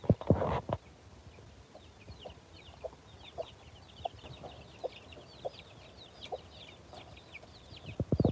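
Flock of chicks, hens and a rooster clucking and cheeping, with soft repeated clucks and scattered high peeps close by, plus a few louder bumps at the start and end.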